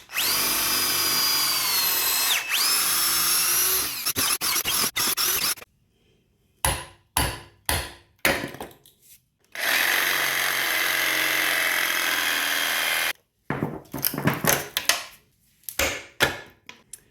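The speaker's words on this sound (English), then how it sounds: "I take a drill and I will drill around the center race" Loud power drill whining in long bursts, drilling out rear subframe bushings on a BMW E46, broken by short pauses and quick stop-start pulses, close up with no talking.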